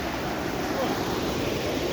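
Hard-running river water in Jamaica rushes in a dense, continuous roar, loud and close with no break in the flow.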